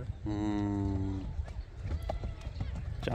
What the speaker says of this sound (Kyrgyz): Ама чоң ат экен.